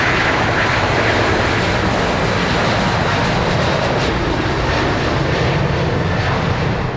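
An airliner takes off at full takeoff and go-around power, its engines producing a loud, continuous roar that holds steady throughout, with no talking.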